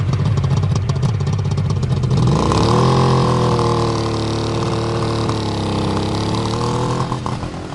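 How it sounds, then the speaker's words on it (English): A 1972 Suzuki GT550 motorcycle engine runs close at the exhaust pipe, a loud, raspy two-stroke drone that swells in a rev around the middle before easing back to a steady idle. "Put that microphone down by the exhaust pipe so they can listen to idle."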